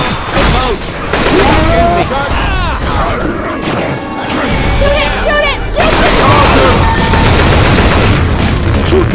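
Rapid bursts of gunfire rip through a zombie horde in Left 4 Dead 2, loud and continuous with crashing impacts, while players shout over the shooting.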